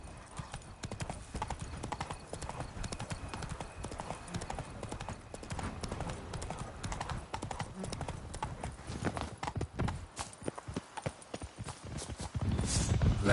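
Roach, the horse in Witcher 3, trots with steady clip-clop hoofbeats that run continuously and build louder toward the end, with faint game ambience behind them.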